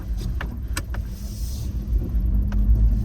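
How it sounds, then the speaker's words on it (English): Fiat 500 2023 city car driving slowly over a bump after leaving snow, fitted with winter tires: steady road and cabin rumble with a few short knocks and light rattles, no talking. "Now we're gonna go on a bump."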